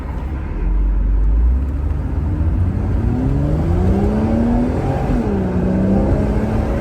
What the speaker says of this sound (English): Nice sound coming from the engine.